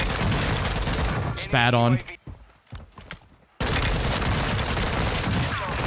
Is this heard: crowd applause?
no